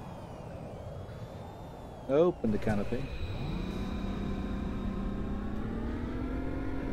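Jet engine in the VTOL VR flight game spooling down after shutdown, a steady whine with a falling tone that settles into a lower hum, with cockpit voice callouts and spoken remarks over it.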